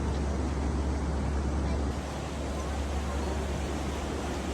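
Water rushing through the Moulvibazar Water Development Board sluice gate, a dense, continuous roar with heavy low rumble, steady and loud throughout, with no clear talk over it.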